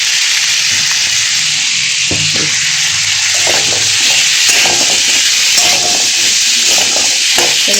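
Tilapia fish curry, seasoned with turmeric and salt, is stirred in a pan over a loud, steady sizzle and hiss, with scraping and clinking stirs throughout.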